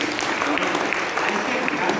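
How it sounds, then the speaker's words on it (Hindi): An audience at a Brahma Kumaris spiritual talk claps together in a dense, steady burst of applause that fills the room, with voices mixed in throughout. "अच्छा, एक बार और ताली बजा दें।"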